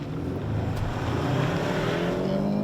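2021 Hyundai Sonata N-Line front-wheel-drive sedan accelerating hard, a steady loud engine drone with rising pitch and road and wind noise heard from inside the cabin.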